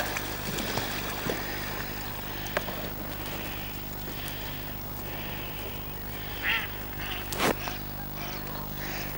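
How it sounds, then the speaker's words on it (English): Ducks in flight quacking a few times at a distance over a continuous loud drone of wind outdoors at Pitsford Reservoir. "A couple of ducks in flight over there"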